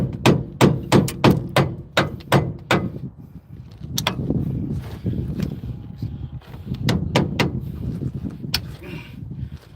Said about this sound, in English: All I gotta do is pound that screwdriver head in there.